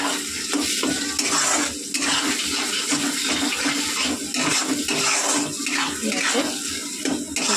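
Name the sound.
long bean paste frying in a wok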